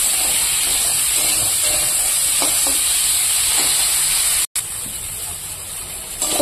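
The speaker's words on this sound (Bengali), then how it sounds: "তো বটবটিটা ভাজা হয়ে গেছে" Flat beans (botboti) fry in a very hot wok, giving a continuous close hiss and sizzle with a few faint clinks and a brief break near the end.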